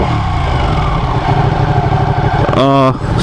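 A Ducati 959 motorcycle engine running loud and close throughout with a steady pulsing drone, then a rising whine as it revs up sharply near the end before cutting off.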